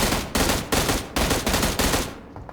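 Sharp, loud bursts of automatic fire in PUBG Mobile hit in a quick rhythm of about six close volleys, then stop abruptly, with no talking over them.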